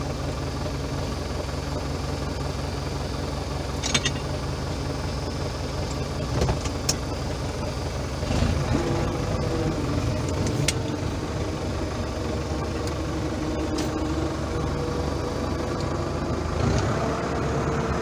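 An Ursus C-4011 tractor diesel with a Lucas CAV DPA injection pump runs steadily, a loud, close, even engine drone with occasional small knocks and clicks throughout.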